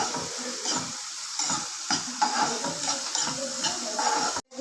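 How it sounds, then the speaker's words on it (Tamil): Onion and tomatoes are sautéed in a pan for a vegetable kuruma, a soft sizzle running beneath repeated scraping stirs of a spoon against the pan, heard close and without talk. "வெங்காயம் 1 தக்காளி 2 போட்டு நல்லா வதக்கணும்."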